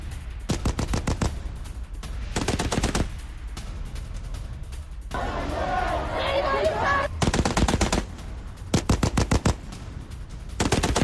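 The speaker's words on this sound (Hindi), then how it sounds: "इमारत की खिड़की से फायरिंग, IRGC जवान फायरिंग करता नजर आया।" Rapid automatic gunfire from a building window in Tehran, aimed at protesters, rattles out in repeated loud bursts separated by short pauses, with a stretch of crowd noise or shouting in the middle.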